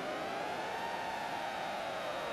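A siren in the Xenoblade Chronicles video game holds a steady, droning wail for a couple of seconds, broad and continuous with a slight dip in pitch, sounding alone without any voices.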